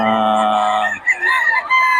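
A rooster crows loudly and close by, a long drawn-out call, followed by a couple of short clucks.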